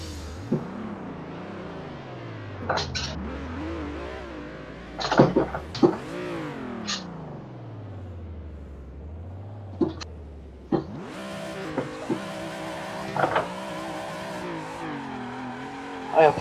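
A car drifts in a racing video game: a whining engine tone sweeps up and down while sharp tire squeals cut in repeatedly, growing busier and denser toward the end.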